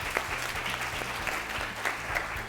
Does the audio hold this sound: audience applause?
yes